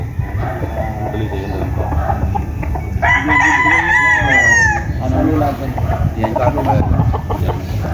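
Gamecocks at a farm, including white kelsos, crow loudly nearby, with one long, clear crow in the middle and softer clucks and distant crowing around it over steady background noise.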